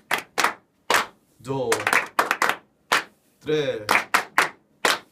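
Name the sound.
hand clapping on the beat in a cajon class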